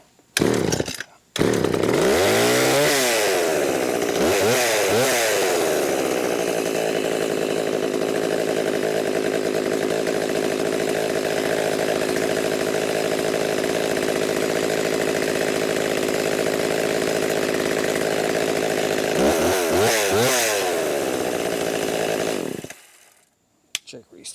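A McCulloch Mac 130 chainsaw, back in service after years unused, runs steadily at fast idle for about twenty seconds, loud and close, with a couple of brief revs near the start and end before it cuts off.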